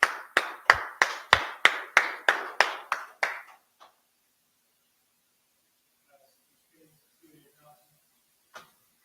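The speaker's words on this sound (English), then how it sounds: "Man, clap it up." A small group claps in sharp unison at a class gathering of a security organisation, about a dozen loud, evenly spaced claps over three seconds, then near silence with a faint stray knock.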